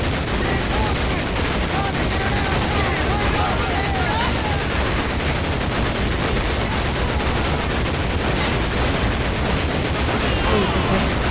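Rapid bursts of gunfire rattle in Medal of Honor Pacific Assault, dense and continuous over battle noise and scattered game voices, loud and sustained throughout.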